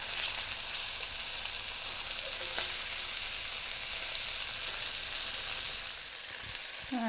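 Pork chops fry in a pan for a tomato-gravy dish, giving a steady close sizzle with no gaps and no talk. A single sharp tick cuts through near the middle, and the sizzle softens slightly near the end.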